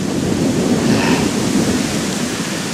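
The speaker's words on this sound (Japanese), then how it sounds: "この雨どんどんひどくなると思うんで" Heavy rain pours down steadily on a windy mountain hike in stormy spring weather, a dense continuous roar that stays loud and close throughout.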